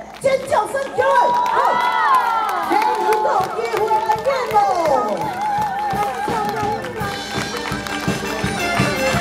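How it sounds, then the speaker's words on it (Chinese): A crowd at an outdoor Taiwanese opera troupe's curtain call in a school sports ground cheers and shouts loudly and steadily, with amplified speech and stage music mixed in throughout. "起来，尖叫声起来！"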